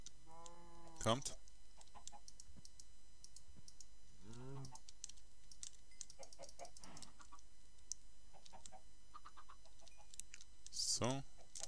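Chickens in Minecraft give intermittent short clucks at moderate volume while someone talks over the game in a few brief phrases.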